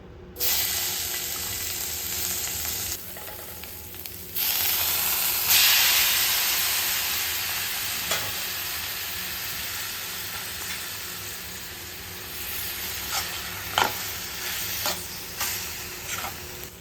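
Soya chunks sizzle and hiss continuously in an iron pan on a gas stove. A spatula stirs them with intermittent scraping and clicking against the metal, close and fairly loud, with no talking.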